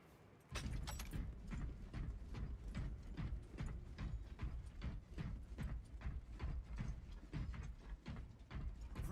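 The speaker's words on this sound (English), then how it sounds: "Reloading." Weapon reloading in the Space Marine 2 video game: a long run of rapid mechanical clicks and clacks, steady and loud throughout, with no voice over it.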